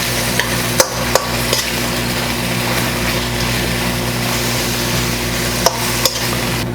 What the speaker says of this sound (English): let's go ahead and get our peppers added to the mixture